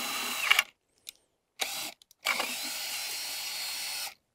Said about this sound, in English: Then we're gonna drill forward